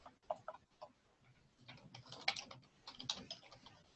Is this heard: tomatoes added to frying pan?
no